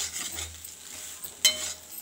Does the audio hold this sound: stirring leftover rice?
yes